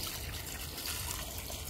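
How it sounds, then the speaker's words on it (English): Water being poured into a mix, a steady close trickling stream that stays even and unbroken throughout, with no talk. "I'm adding the water and it will expand"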